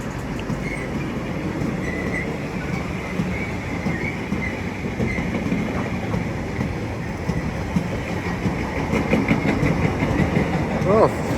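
Class 66 freight train with flat wheels, hauling containers through Watford Junction on the West Coast Main Line at modest speed, a loud close rumble with rhythmic wheel thumps throughout and squeals toward the end, under some talk.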